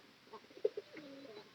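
Pigeons coo faintly nearby, with a few soft, low throaty calls over quiet background hiss.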